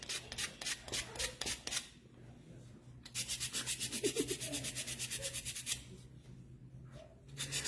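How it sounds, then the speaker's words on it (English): Sandpaper scrubbed by hand over a painted wooden Christmas tree sign to distress it, in close repeated rasping strokes, first in short bursts and then in a steady fast rhythm, with brief pauses between. "So I'm going to take some more of the sandpaper. I'm going to distress this one"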